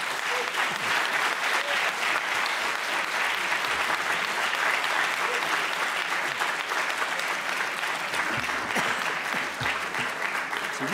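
A lecture audience applauds warmly after a talk on Corsica, a dense, sustained wash of many hands clapping at an even level throughout, filling the room without break.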